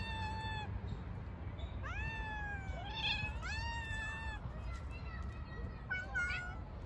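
A cat meows repeatedly, a series of drawn-out, rising and falling cries close by, over a low background rumble, while warding off other cats from its territory.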